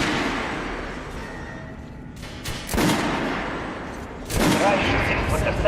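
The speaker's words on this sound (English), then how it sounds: "head over to my range and try out those guns" Gunfire from weapons at a shooting range in Metro Last Light, with two loud bursts of shots fired at separate moments over a steady game backdrop, and speech appearing only faintly.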